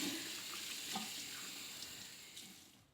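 Bathroom tap running while cleanser is rinsed off a face, a steady close splashing gush that fades out toward the end, no talking.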